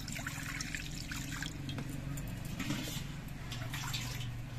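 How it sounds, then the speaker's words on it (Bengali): Half a mug of water poured for pitha dough, a steady close trickle running for several seconds with a low hum in the background. "তার জন্য আমি 500 গ্রাম মগের হাফ মগ জল দিচ্ছি।"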